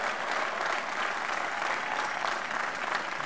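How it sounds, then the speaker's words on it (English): Steady applause from a large commencement audience at a 2017 university graduation ceremony, dense even clapping sustained throughout without a break. "Please give yourselves and your families a round of applause."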